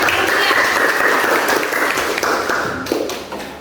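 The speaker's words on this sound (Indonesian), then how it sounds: "Oke, kita tepuk tangan dulu Pak" A classroom audience claps together after a request to applaud during a lesson on osteoporosis, the dense clapping loud and steady, then thinning and fading toward the end.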